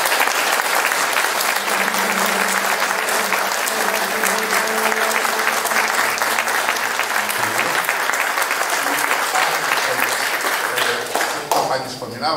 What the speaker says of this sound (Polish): bardzo, bardzo proszę o klaski jeszcze raz, tak porządnie